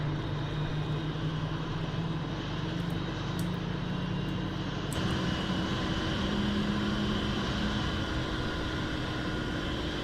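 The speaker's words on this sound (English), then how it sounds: "Wow, the engine is seriously fast." A simulated Boeing 777 jet engine in X-Plane 11 spools up with a steady, loud whine and broadband roar, shifting pitch partway through and holding a sustained rumble throughout.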